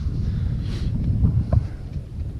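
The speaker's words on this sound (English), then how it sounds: "it's quite windy" Steady low wind rumble buffeting the microphone at a wild campsite by Round Loch of Glenhead, Galloway Forest Park, with a faint gusty whoosh rising briefly near the middle.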